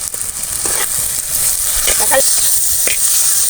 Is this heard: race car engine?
no